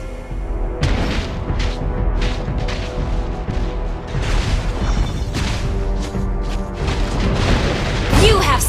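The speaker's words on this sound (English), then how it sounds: "Your team destroyed a turret." Explosions and booms in a multiplayer game as a turret is destroyed, a dense run of loud crashing blasts with mechanical clatter, a game announcer voice heard over it.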